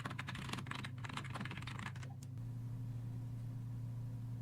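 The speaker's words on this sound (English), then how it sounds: "Now just type I want to delete my account." Rapid, close keystrokes clatter on a computer keyboard for about two seconds, then stop, leaving a quiet background hum.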